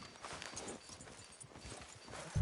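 Horse hooves clip-clop on the street in the Western game Red Dead Redemption 2, a faint irregular walking patter of hoof strikes ending with a louder thud.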